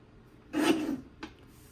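A paper trimmer blade slices scrapbook paper up close, giving one longer rasping draw followed by a short second scrape, with no talking.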